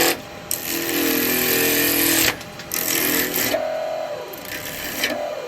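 A homemade woodturning gouge sharpening system powered by an electric motor hums loudly up close, running in bursts that stop and restart with steady, rising whining tones as it comes up to speed.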